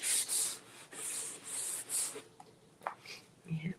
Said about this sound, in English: come in with a little bit of sandpaper.